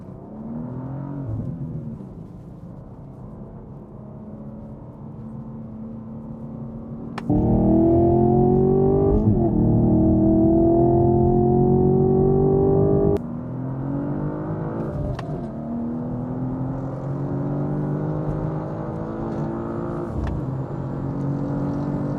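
Two cars, a 2023 BMW M2 and a 2023 Camaro SS 1LE, launch in a drag and roll race, engines revving hard and climbing through gears with loud, sustained acceleration and rising pitch, heard from inside the car without talk.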